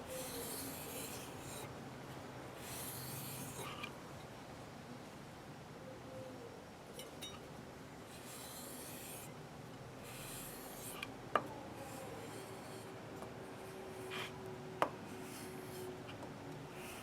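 A knife edge is drawn along a strop loaded with honing compound, making soft, repeated rasping strokes in a slow rhythm, with a few brief clicks, close and quiet.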